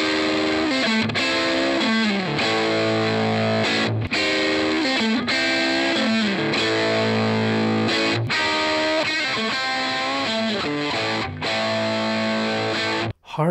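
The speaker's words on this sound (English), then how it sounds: "Hard rock solo sound, single coil." A single-coil electric guitar driven through a Nobels ODR Natural Overdrive Mini pedal plays a hard rock solo, loud sustained overdriven notes and bends in continuous phrases, close and alone.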